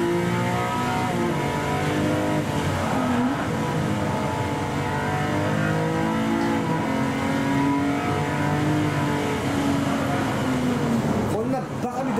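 A Porsche racing in the driving game Gran Turismo 7, its engine holding a steady high-revving drone with shifting pitch, loud and continuous, with someone talking over it throughout.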